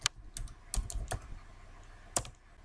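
Sparse keystrokes on a computer keyboard while writing R code, a handful of quiet, separate clicks spread irregularly, close and soft against a faint room hiss.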